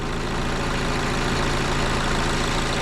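An Audi A6 with a 0B5 DSG transmission idles while warming up after a dual mass flywheel replacement, giving a steady, loud, unbroken engine drone.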